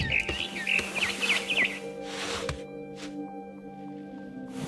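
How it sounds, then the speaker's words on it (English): A barn swallow chirps in What Remains of Edith Finch: a quick run of bright, high twittering calls in the first second and a half, then quieter ambient game sound. "Then I heard chirping outside my window. It was a barn swallow going back to her nest."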